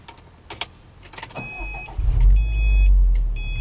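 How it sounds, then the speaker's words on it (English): A 2012 Subaru STI Limited engine cranks and catches, then settles into a deep, steady growling idle close by, with a few electronic chimes beeping over it. "It's got that lovely STI growl to it."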